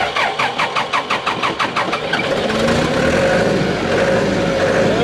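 A backhoe engine cranks with a rapid rhythmic starter churn for about two seconds, then catches and settles into a loud, steady close idle.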